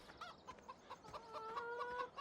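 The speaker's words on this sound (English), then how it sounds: "Got our just animated chickens." Animated chickens clucking in the farming video game Farming Simulator 17, a few soft repeated clucks and short calls at a distance, faint and alone without talk.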